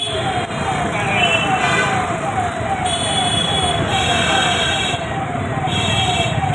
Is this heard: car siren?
yes